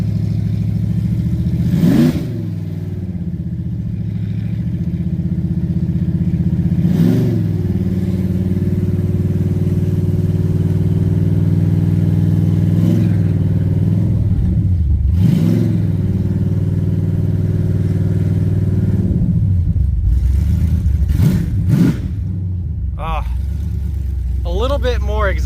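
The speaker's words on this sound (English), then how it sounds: "A little bit more exhaust and she'll sound pretty good. It's a little too loud right now." LS-swapped wagon driving with a loud, deep V8 exhaust rumble that swells with each throttle blip and gear change, heard from inside the car, continuous and close.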